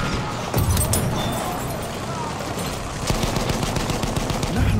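Gunfire from a World War I shooter game battle, with bursts of automatic weapon fire and loud shots crackling in a dense, continuous wash of combat noise that swells again near the end.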